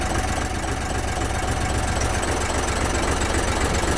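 An Isuzu 6UG1 diesel engine runs steadily at idle, loud and close, with a dense, knocking clatter and deep vibrating rumble that holds even and unbroken, with no voices.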